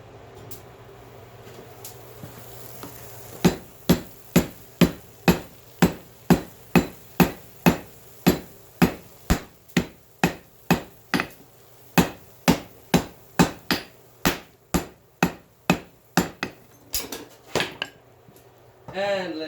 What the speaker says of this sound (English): It's now time to start actually beating it into shape.